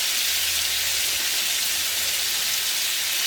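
Chicken pieces crisping in hot oil in an uncrowded pan, giving a steady, close, continuous sizzle with no talk over it.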